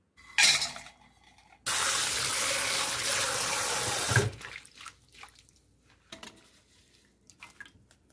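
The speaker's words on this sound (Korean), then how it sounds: "새우를 물에 씻어 주는데요. 헹구듯이 살짝만 씻어 주겠습니다" Water runs steadily from a tap for a few seconds while dried shrimp are rinsed, followed by light clinks and small splashes in a sink.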